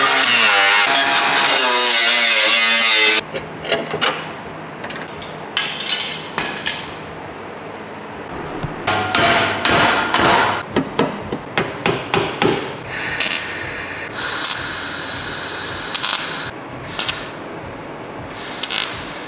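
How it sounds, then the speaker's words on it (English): Sharp crackling bursts from tack welding patch pieces into a Honda Civic Type R floor pan, a series of short close arcs with quiet gaps between them, after a louder stretch of sound at the start. "I went ahead and got all of the pieces tacked up in there."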